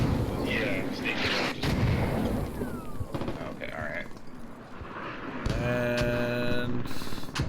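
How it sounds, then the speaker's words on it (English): Mortar fire lands in a Squad-style competitive match: deep, rumbling booms and blasts come in waves at a distance, under a shouting commentator voice and a short game tone near the end. "here come all the mortars"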